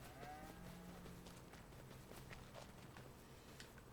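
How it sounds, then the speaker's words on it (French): Cows shift about in a barn, with faint hoof thuds, soft shuffling and a brief low animal sound over quiet background noise, distant and subdued. "les vaches elles sont là"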